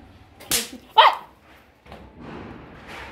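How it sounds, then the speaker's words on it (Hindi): Diwali firecrackers go off nearby with two sharp, loud bangs about half a second apart, followed by faint crackling and background hiss. "अभी मेरे पैर में पटाखा लगे, मेरे पैर जल जाता"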